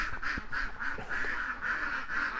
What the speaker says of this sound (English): Ducks quacking away.